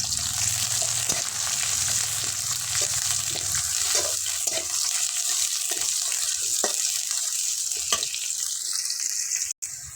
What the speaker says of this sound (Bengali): একসঙ্গে ভালোভাবে এটা লাল লাল করে ভেজে নিব।